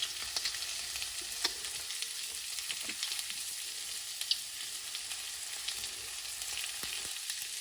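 Seasoned ground turkey meatloaf mix with black pepper and Mrs. Dash gets stirred in a bowl, a soft continuous wet hiss with faint scattered clicks of the utensil, quiet and steady with no voices.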